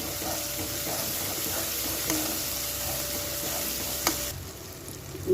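Cooked tomato paste frying in oil for mutton curry, a dense, continuous sizzle close up with a few stirring knocks, easing slightly near the end.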